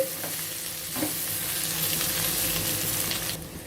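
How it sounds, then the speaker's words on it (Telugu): Brinjal pieces fry and sizzle steadily in a pan for an eggplant curry, with brief stirring scrapes near the start and a continuous crackling hiss throughout. "చూడండి వంకాయలు ఈ విధంగా మనకు వేగాయి"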